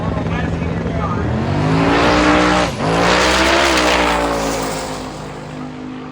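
Race cars roar down a drag strip on an eighth-mile run, loud and sustained engine noise rising in pitch, dipping briefly at a shift, then climbing again and fading slightly as they pull away.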